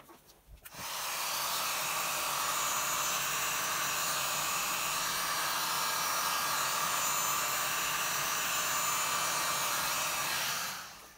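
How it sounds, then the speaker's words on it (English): A heat gun blows steadily over acrylic pour paint for about ten seconds, a loud, even airy hiss like a hair dryer that starts abruptly and cuts off at the end, with no talking. "Now I'm gonna use my heat gun and it should create some nice interesting cells."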